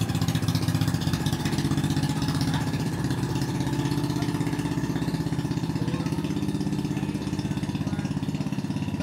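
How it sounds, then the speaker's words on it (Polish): A motor boat comes in toward the shore on Siargao in the Philippines. Its engine makes a steady, even mid-pitched drone that runs unbroken throughout at fairly close range. "Łódka przypływa"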